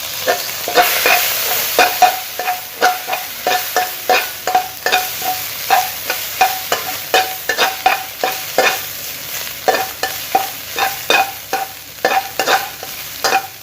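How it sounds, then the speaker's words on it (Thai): Beef pieces stir-fried in oil in a hot pan, a spatula scraping and tossing in a steady rhythmic beat over a loud, close, continuous sizzle. "ผมจะคั่วเรื่อยๆให้เนื้อเขาสุกให้น้ำมันของเนื้อออกมาครับ"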